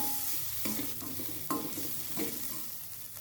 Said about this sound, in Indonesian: Masukkan bawang merah dan bawang putih, masak hingga wangi.